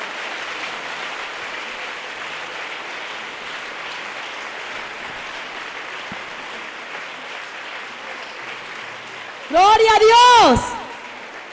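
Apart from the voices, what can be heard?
church congregation applauding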